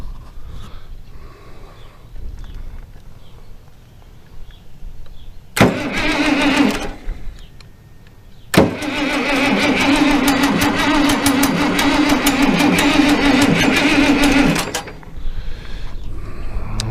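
International Harvester 1086 tractor, a burnt machine left sitting for years, cranking with throttle applied: a quiet start, then a short burst of cranking, a pause, and a longer loud grinding run that stops near the end.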